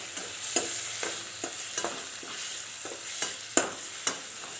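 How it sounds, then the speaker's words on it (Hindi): Onions and tomatoes frying in ghee in a pan for a potato bhujia, with a soft continuous sizzle and a spoon scraping and tapping the pan in a regular rhythm, roughly twice a second. "पाँच मिनट इसको अच्छे से मैं भून के फिर आपको दिखाती हूँ"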